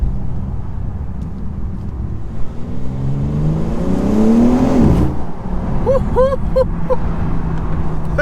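Engine of a 2023 BMW M4 Competition xDrive heard from inside with the windows slightly down, revving hard and rising in pitch before an abrupt, aggressive gear change cuts it short, then pulling again at a lower, loud, close drone.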